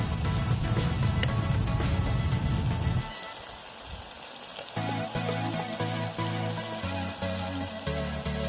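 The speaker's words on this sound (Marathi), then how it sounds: "यात आपण आता थोडंसं पाणी सोडूया." Chicken curry sizzles loudly in oil at an outdoor lakeside cooking spot, then the frying drops away as water is poured in, followed by a softer bubbling simmer.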